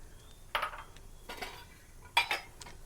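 Brown sugar goes into a pot and gets stirred, giving a few sharp metallic clinks and scrapes of a spoon against the pan in scattered bursts over a quiet room.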